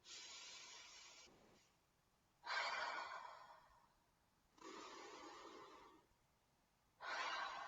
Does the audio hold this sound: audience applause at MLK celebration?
no